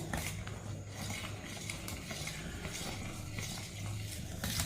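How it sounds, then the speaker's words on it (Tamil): Ragi sprouts batter, now boiling, gets stirred in a pot with a utensil, a soft, steady scraping and bubbling close by and fairly faint, with no talking. "இதை வந்து நல்லா நம்ம கை விடாமல் கிண்டணும்."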